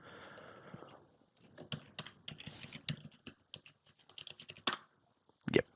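Quick, uneven keystrokes on a Mac keyboard as a password is entered, close and fairly faint, with short bursts and pauses and one louder final key press; a low hum fills the first second.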